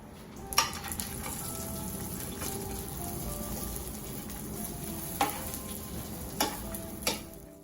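Thinly slivered nuts and raisins toast in a pan with a low, steady sizzle, broken by a few sharp clicks and taps of a spoon against the pan, close and fairly quiet, with no talking.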